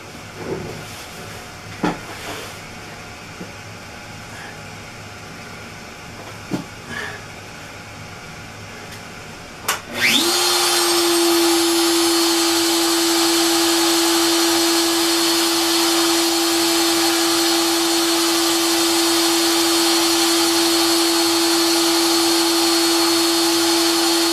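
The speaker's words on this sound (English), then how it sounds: "I'm going to turn the spindle on and tell it to start carving." X-Carve CNC spindle on a machine set up to carve steel, starting abruptly after scattered clicks and then whining at a steady high pitch with a loud airy hiss, close and continuous with no talk.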